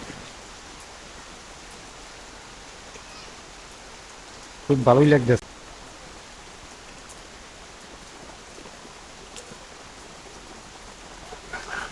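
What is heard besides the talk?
rain falling in a village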